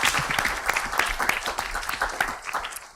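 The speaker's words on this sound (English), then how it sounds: "Round of applause," An audience at a city's 64th anniversary celebration breaks into dense, lively applause, with many hands clapping close together for about three seconds.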